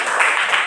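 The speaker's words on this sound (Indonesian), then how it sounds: "tepuk tangan untuk kelompok terakhir" Classroom applause for the final student group, a short burst of dense hand clapping from a roomful of people, close and fairly loud.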